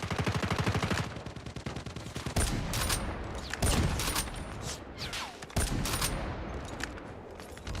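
Gunfire in Call of Duty Mobile: a rapid, evenly spaced automatic burst, then heavier irregular shots and sharp cracks that continue loud and close throughout.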